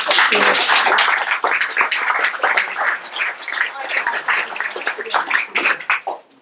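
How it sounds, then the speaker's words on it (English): A crowd at a business enterprise week event in Jersey applauds with dense, continuous clapping that holds steady and then gradually thins out toward the end. "But please join me in a round of applause."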